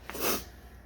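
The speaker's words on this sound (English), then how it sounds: "I sneeze whenever there's a temperature change." A single sharp human sneeze, close and fairly loud, bursting out briefly and then fading into quiet room noise in a garage setting.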